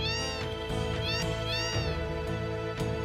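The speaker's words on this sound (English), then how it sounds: "Cats! Oh, the cat house." Several cats in the cat house of Final Fantasy VII meow in repeated rising-falling cries over a dense, loud game music bed, following one another in quick succession.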